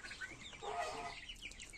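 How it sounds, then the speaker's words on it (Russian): Newly delivered chicks on a farm give a brief, bright burst of peeping and chirping, mid-loud and close, over faint background noise. "Цыплят нам привезли"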